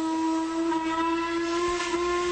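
A steam locomotive whistle blows one sustained, steady shrill tone with a strong pitch and breathy hiss beneath it, loud and continuous through the whole stretch with no voices.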